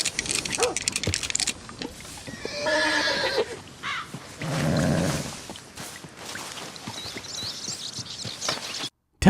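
A horse in Red Dead Redemption 2 whinnies loudly with rising and falling neighs, mixed with game ambient noise and a few other animal-like calls, ending abruptly.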